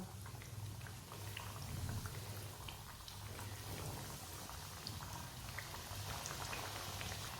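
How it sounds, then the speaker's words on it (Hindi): Cheese samosas frying in hot oil, a soft continuous bubbling hiss with tiny crackles, faint and steady, without voices. "अब इसमें एक एक करके समोसा डाल लेंगे।"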